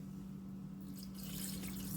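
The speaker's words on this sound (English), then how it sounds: "I'm gonna put a little water in here." Water pours steadily into a blender container for making date paste, a continuous low gurgling wash that brightens toward the end, close and fairly quiet with no talking.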